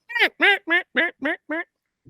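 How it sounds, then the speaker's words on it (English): A duck hail call blown on a call: six loud, raspy quacks in a quick, evenly spaced descending series, close and clear with no other sound, followed by a faint brief rustle. "I'll just blind call, and I'll just throw out just a hail call."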